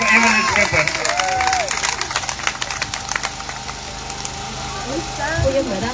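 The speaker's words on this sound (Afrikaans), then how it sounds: "Kan ons om 'n ander klap gee vir Evelyn Steepers." A crowd claps for candidate Evelyn Steepers at a local community gathering, a steady wash of applause that swells and fades over several seconds, mixed with crowd noise and some passing voices.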